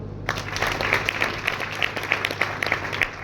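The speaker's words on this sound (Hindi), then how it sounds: "अब फिर ताली बजाओ।" A seminar audience claps at the host's urging, a steady wash of many hands with distinct sharp claps standing out, fairly close and sustained throughout without talk on top.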